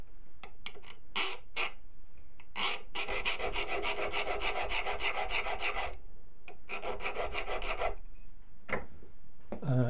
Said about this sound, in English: With a fine cut file, cut